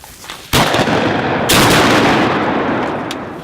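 Two loud, close shotgun blasts fired from a duck blind during a waterfowl hunt, the first sharp report followed about a second later by a second one, each leaving a long ringing decay across open ground.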